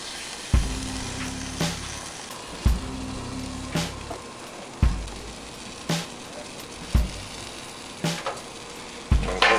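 Buffalo burgers sizzle steadily in a pan, a constant frying hiss broken by a regular series of sharp clanks and scrapes roughly every second or two, with no talk.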